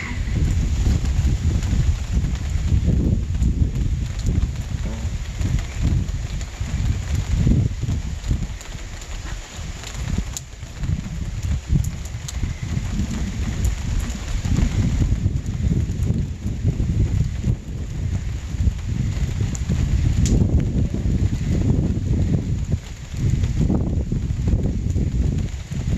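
Steady wind roars and buffets the microphone atop rainy, foggy Bromley Mountain, a loud continuous wash of gusts and rain noise with no voices.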